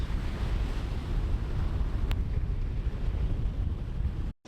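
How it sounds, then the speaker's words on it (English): Strong wind buffeting the microphone on an ocean beach at sunrise, mixed with the steady wash of surf, a continuous dense roar with no talking, ending in a brief sudden dropout. "It's windy, but not too windy to bird. The waves are actually not that high."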